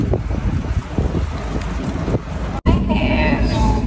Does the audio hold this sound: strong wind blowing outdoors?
yes